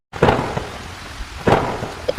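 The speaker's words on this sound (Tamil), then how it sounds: "பெரிய இடி முழக்கத்தோட மழை பெய்ய ஆரம்பிச்சுது" A cartoon storm opens with two loud thunder booms a second apart, over a light hiss of rain falling.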